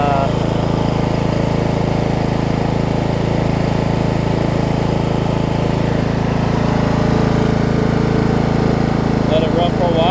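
A Murray riding lawn mower's small engine runs steadily at idle after repair work, a continuous low drone held close and loud for the whole stretch, with someone talking over it.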